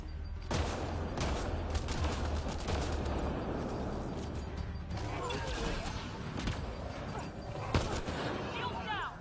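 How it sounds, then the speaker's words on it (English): Live gunfire in a chaotic firefight, with rapid cracks and bursts of shots over a constant loud din, mixed with impacts and shouting voices close by. "Live fire!"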